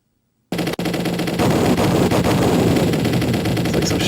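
Rapid machine-gun style gunfire from the Carrier Air Wing arcade shoot-em-up, a dense continuous rattle of shots over game music after a short silence, no talking.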